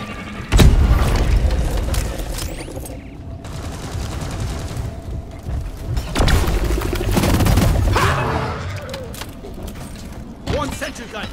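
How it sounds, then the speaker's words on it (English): A sticky grenade in a shooter game explodes with a loud boom amid ongoing gunfire and crashes. Busy, heavy combat noise fills the stretch with repeated impacts, and voices speak over it. "Sticky grenade!"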